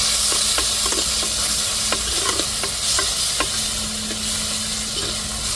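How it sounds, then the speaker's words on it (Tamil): Small onions with tomatoes and chillies, pounded on a grinding stone, sauté in a pan for country chicken curry, a loud, close, continuous sizzle broken by a dozen or so sharp spoon taps and scrapes. "சின்ன வெங்காயத்தெல்லாம் எல்லாத்தையும் மொத்தமாக சேர்த்து அப்படியே வதக்கிடுவோம்"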